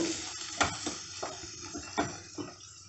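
Green gram sundal with curry leaves is stirred in a pan with about six soft, rhythmic scrapes over a faint sizzle, quiet and close.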